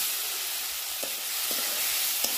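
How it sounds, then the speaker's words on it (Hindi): Tomatoes for fish masala fry in leftover oil, giving a loud, steady sizzle close by with a few soft stirring taps and no voices. "बचे हुए तेल पे उसी में टमाटर को डाल दिए हैं"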